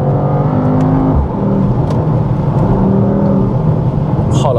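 Mercedes AMG GT 63 S E Performance (843 hp) engine pulling hard under acceleration, a loud sustained drone with rising harmonics and no speech.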